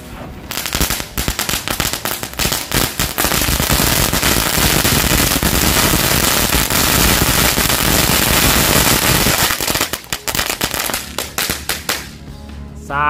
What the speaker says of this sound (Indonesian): Lanjut kita nyalakan 3 pak sekaligus mercon telur dino.